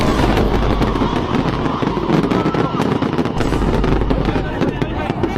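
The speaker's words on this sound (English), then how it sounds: "during this year's 4th of July, we got some rogue fireworks" Rogue fireworks going off on the 4th of July, a loud, dense barrage of overlapping crackles and booms that runs continuously without a pause.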